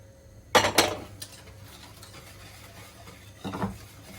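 A spoon scrapes and clinks against a pot as a mix of milk, flour and wheat starch is stirred, with two sharp knocks early on, a quiet stretch, then another short burst of stirring; no one speaks.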